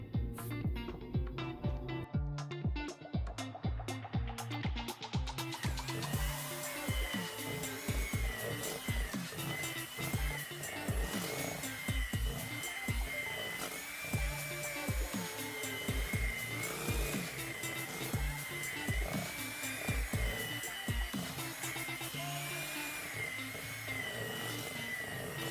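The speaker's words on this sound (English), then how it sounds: "With my hand mixer, I'm gonna mix everything together." A hand mixer beats vanilla cupcake batter with raspberry preserve, a continuous whirring motor hum running throughout under a rhythmic musical backing.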